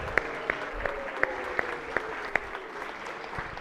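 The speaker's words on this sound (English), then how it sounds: "Please give him a round of applause." Light applause in a state Senate chamber during a floor session, with a few distinct claps ringing out at a steady pace over a soft murmur. It stays fairly quiet and distant the whole time.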